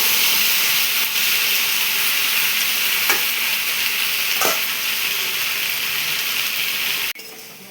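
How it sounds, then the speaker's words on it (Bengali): Taro pieces seasoned with salt and turmeric fry in a pan. A strong, continuous sizzle is broken by a few stirring scrapes, then drops sharply near the end. No one speaks. "ভেজে নিচ্ছি।"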